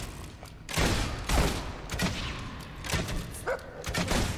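Gunfire from a fight in the video game Fable 2, a few loud sharp blasts spaced a second or so apart, each trailing off quickly over a steady game background with no talking.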